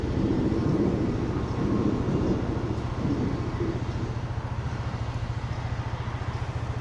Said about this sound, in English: There's the Shinkansen.